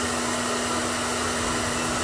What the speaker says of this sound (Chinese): 打折有皱褶的位置用吹风机用低温吹平